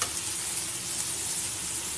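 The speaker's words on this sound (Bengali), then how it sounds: "এখানে পটল আলুও ভাজা ভাজা হয়ে যাচ্ছে" Pointed gourd and potato pieces fry in hot oil, a close, dense, even hiss of sizzling that holds steady for a couple of seconds.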